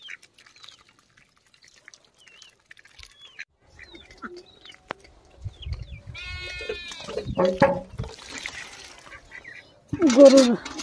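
Sheep bleat at a farmyard feeding time around 6–7.5 s, with harmonic cries mixed among goat-like calls, clatter and a voice calling the animals nearby; quiet stretches precede the livestock noise.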